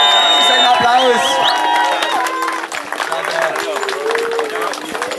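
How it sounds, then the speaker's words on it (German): Crowd at a youth football cup ceremony for under-nine players applauding and cheering loudly and steadily, with whoops and children's voices mixed in throughout. "Jawohl! Ein Applaus!"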